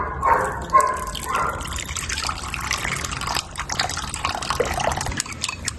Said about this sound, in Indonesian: Kita siram pakai air hangat.